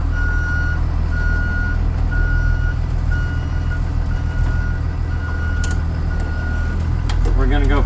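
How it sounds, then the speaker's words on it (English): A Blue Bird Vision school bus with hydraulic brakes reverses slowly, its backup alarm beeping in a regular, evenly spaced pattern over a loud, steady diesel idle, with someone talking at the end. "We're gonna back up a little bit so that we got room to do the brake test here."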